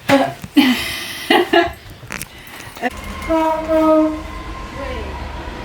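A train, D213 Andania, rumbles past nearby Armathwaite Signal Box with a low steady drone and tonal horn-like notes, after a few sharp clanks and knocks at the start.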